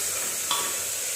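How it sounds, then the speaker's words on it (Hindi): Chicken sizzles steadily in a pan with garlic, ginger and chili paste in a home kitchen, a constant close frying crackle with one brief scrape of stirring partway through. "अब इसको थोड़ी देर भूनूँगी"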